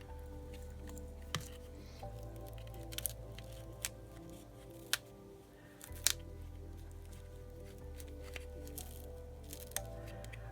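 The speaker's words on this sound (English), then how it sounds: "Scissors would work better." A few sharp snips of scissors cutting through ribbon while making a card, scattered among soft rustling and handling noises at close range.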